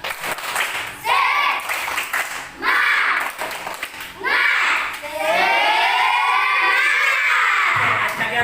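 A classroom of children performs a rhythmic spirit clap during a lesson, bursts of patterned clapping alternating with loud chanting and shouting voices, ending in a longer stretch of group shouting.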